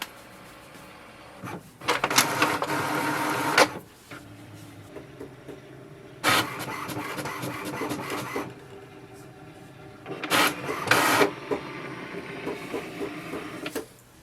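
An HP Envy 5070 home inkjet printer making a color copy: a steady low mechanical hum broken by several louder bursts of whirring and rattling carriage and paper-feed motion, close and heard alone.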